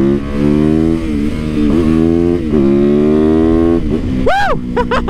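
A SuperMoto motorcycle engine drones loud and close while being ridden, its pitch rising and dipping through gear changes before a sharp burst of throttle blips near the end, with no talking.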